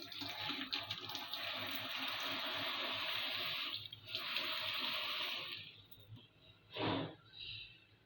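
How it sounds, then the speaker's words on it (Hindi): Hands are washed under running tap water in a home kitchen, a steady close splashing rush that thins out toward the end. A short separate gush of water comes near the end. "जब मम्मी हाथ धो लेंगे अपना"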